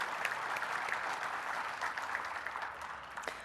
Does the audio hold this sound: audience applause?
yes